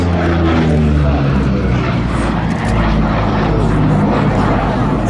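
A Lockheed P-38 Lightning twin-engine propeller fighter flies past at the Duxford Flying Legends airshow, a loud, continuous engine drone that swells and eases, with wind buffeting and faint crowd voices.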